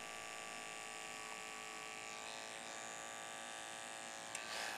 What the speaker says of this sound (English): very slowly we start scooping away and let that clipper work. Let it cut as we pull away from the head.